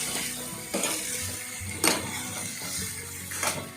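Duck meat with spices frying in a pan while being stirred, a steady close sizzle broken by several scraping strokes of a utensil against the pan, no voices.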